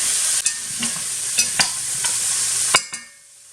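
Lamb stew with spices cooking in a pot, a continuous sizzle broken by several sharp stirring scrapes and clinks, the sizzle fading out near the end.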